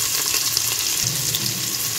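Long-sliced onions sizzle and fry in hot spiced oil for a soya biryani, a loud, dense, continuous hiss with faint stirring underneath and no talking.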